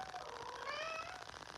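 A male cat meows once, a drawn-out, rising and falling cry heard close but faint over a soft background hiss.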